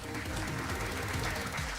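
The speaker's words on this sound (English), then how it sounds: "A big round of applause, please." Applause from a pageant audience, a steady dense wash of clapping that holds at a fairly even level throughout, with no talk over it.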